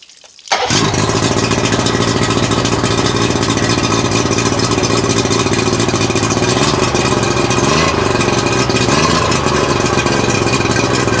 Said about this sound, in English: we got the motor running nicely after we cleaned the carbs